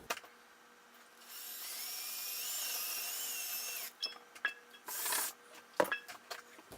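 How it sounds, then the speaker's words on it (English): A power drill whirs steadily for a couple of seconds while drilling through a boat hull, then stops, followed by scattered knocks, scrapes and rattling. "I'm going to try to drill through this and see what happens"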